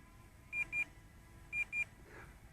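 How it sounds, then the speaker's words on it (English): A Potensic Atom 2 drone beeping while returning home: short electronic beeps in pairs, two quick tones, a pause, then two more, faint over a low background hum. "You hear that beep?"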